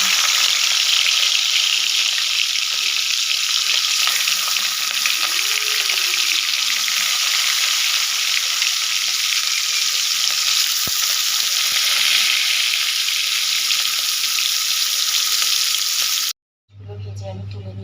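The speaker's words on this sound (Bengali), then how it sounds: "এবার মাছগুলোকে আমি একটা করে ভেজে নেব।" Fish pieces frying in hot oil in a kadai give a loud, continuous sizzle with a dense crackling hiss that holds steady, then cuts off abruptly near the end.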